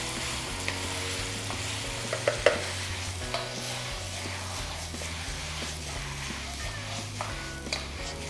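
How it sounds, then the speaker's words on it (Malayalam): Marinated chicken for a Kerala-style chicken roast sizzles in a pan as it is stirred, with a low frying hiss and occasional scrape-like knocks under soft background music. "ചിക്കൻ ഇട്ടതിന് ശേഷം നമുക്കിത് നന്നായിട്ടൊന്ന് മിക്സ് ചെയ്ത് കൊടുക്കാം."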